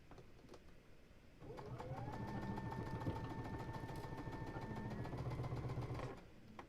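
A sewing machine stitches the top row of a star quilt block, running in one steady, even buzzing burst for several seconds after a brief quiet start, close and fairly loud, then stopping.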